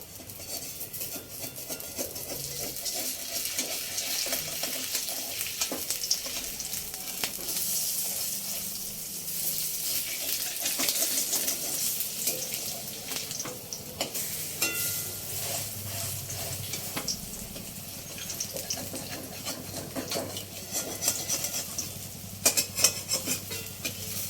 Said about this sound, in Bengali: উল্টে এইভাবে একটু খুন্তি দিয়ে চেপে চেপে একটু বড় করে নেব, একটু যাতে ভালো করে ভাজা হয়।